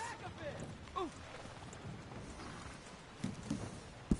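Video game horse hooves clip-clop at a slow walk under faint, distant voices, with a few sharper knocks toward the end.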